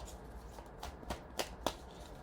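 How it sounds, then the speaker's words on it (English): Tarot cards being shuffled by hand: soft papery riffles and a few sharper snaps near the end, faint and close, with no talk. "Let me just shuffle a little bit more before we pull out some cards."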